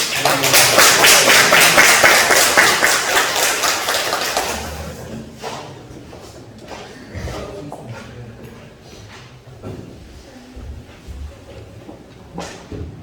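A church congregation bursts into loud, sustained applause during a Sunday worship service, and the clapping fades out after about five seconds, followed by scattered quieter knocks and a speaking voice.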